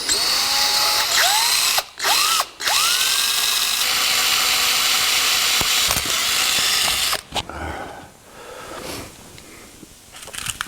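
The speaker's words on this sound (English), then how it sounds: "Let's punch this nut and drill a hole in it" A drill bores a hole through a steel nut for a cotter pin on a 1949 Chevrolet gasser, a loud steady whine with two brief stops, then halting grinding bursts as the bit breaks through.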